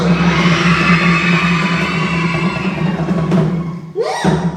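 A crowd of children screams and cheers at a live birthday celebration event, forming a loud, sustained, shrill din that swells, with a brief dip and burst near the end.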